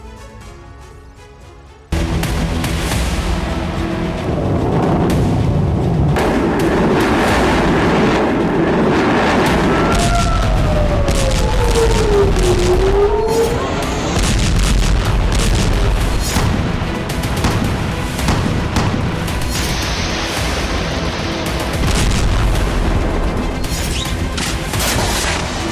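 Hezbollah rocket attacks exploding: loud booming blasts and rumbling impacts that carry on for about twenty seconds, with whooshing rocket sounds and crashing debris mixed in.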